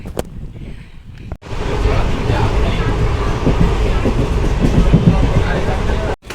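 At Akola railway station, a train rumbles past nearby with a loud, continuous roar and rattling clatter, after a brief quieter stretch of background noise.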